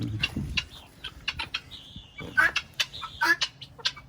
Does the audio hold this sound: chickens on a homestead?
yes